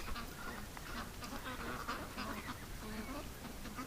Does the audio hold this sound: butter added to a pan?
no